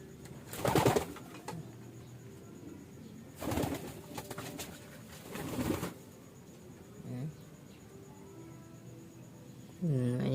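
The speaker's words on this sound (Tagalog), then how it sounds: "Mga ibon natin mga tropa." Pigeons cooing in a breeder's loft, several soft low coos in bursts with quieter stretches between, close by, and a faint voice or flutter near the end.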